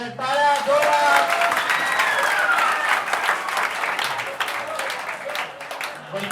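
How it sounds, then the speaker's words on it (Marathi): Parents and students at a talent hunt exam prize distribution ceremony break into loud, sustained clapping that carries on to the end, with a voice talking over the applause near the start. "जोरात टाळ्या वाजवायच्या, टाळ्या जोरात"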